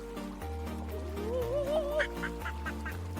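Ducks quack and honk in the Duck River video game, several calls standing out over a low steady background hum, fairly faint, with no talk.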